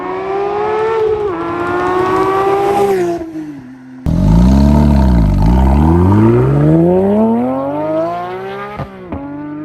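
A Porsche 992 GT3 fitted with a JCR exhaust screams past at high revs, its loud rising and falling engine note sweeping through a sharp pitch drop as it passes close, followed by another hard-revving pass.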